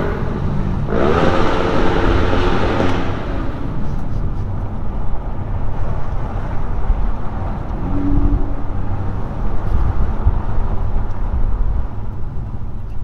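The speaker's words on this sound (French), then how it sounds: "Le bruit et le son de la voiture est très plaisant" A new Ferrari 488 GTB's engine drones steadily from inside the cabin, with a brief louder burst of revving early on, over constant road and wind rumble.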